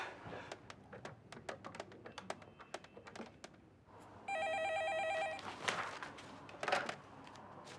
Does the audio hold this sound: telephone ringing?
yes